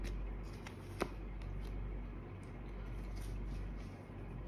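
A deck of tarot cards is shuffled close up with soft, repeated riffling and flicking, plus one sharper snap partway through, and no talking.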